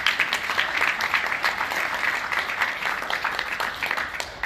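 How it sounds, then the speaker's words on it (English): A small audience at a local political talk gives a steady round of applause, dense continuous clapping that holds evenly for several seconds with no talk over it. "Let's give them a nice round of applause."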